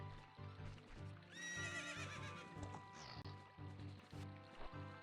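Epona, the horse in The Legend of Zelda: Ocarina of Time, gives a clear rising whinny over steady game background sound, with hoof clip-clops and a looping ambient bed around it.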